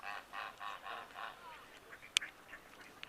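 Ducks on Lake Ralphine give a few faint, distant quacking and honking calls in a short series, with a brief sharp click partway through over quiet outdoor background.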